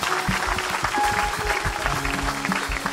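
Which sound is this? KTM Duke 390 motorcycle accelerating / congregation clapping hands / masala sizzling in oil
congregation clapping hands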